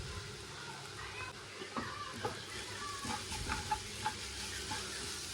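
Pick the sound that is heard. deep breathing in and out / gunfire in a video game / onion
onion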